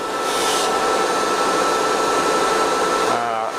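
A polishing machine spins a mop against a platinum ring in a steady, close, whirring whine, briefly shifting in tone near the end as the piece is worked, with no talking.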